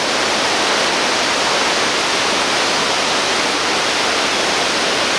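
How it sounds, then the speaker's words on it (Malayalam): Overflowing forest streams rushing beside a road through Sholayar forest between Athirappilly and Valparai, a loud, steady broadband roar of water with no pauses and no voices. "എനിക്ക് പോകുന്ന വഴിക്കൊക്കെ തോടെല്ലാം നിറഞ്ഞ് വെള്ളം ഒഴുകുവാണേ."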